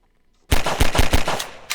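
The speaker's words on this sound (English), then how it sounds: "Pistol." A rapid burst of pistol fire in Garry's Mod, around seven loud, close shots in quick succession after a brief quiet start.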